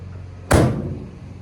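A single heavy slam as a car trunk lid is shut hard, a sharp thud followed by a brief rattle fading out.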